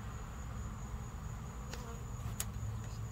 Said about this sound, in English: We just got a few bees on the board.